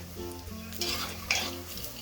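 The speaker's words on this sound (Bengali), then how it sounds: "এক সাইড হয়ে গেছে, উল্টে নিচ্ছি অপর সাইড ভাজা হওয়ার জন্য" Soft sizzling of ridge gourd and potato fritters frying in oil, with a low hum beneath and a few light clinks of a utensil.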